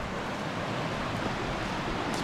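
Rushing water of Ketchum Creek at a hiking crossing in Loyalsock State Forest, a steady broadband roar of flowing stream water with no voices.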